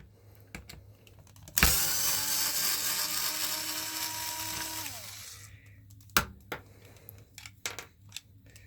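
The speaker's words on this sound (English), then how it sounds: "So we're going to be loosening those with a hyper torque thing." A Hyper Torque power driver whirs continuously for about three seconds, loosening screws during a Traxxas Maxx 4S RC truck teardown, close and fairly loud, with small clicks and part handling before and after.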